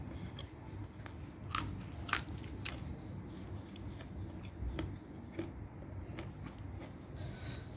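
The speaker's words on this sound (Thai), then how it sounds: "ผักกาดพันนี่กรอบกรอบนะฮะ" Crisp lettuce wrapped around food and bitten and chewed up close, sharp crunchy snaps over steady mouth noise and a low room hum, with no talking.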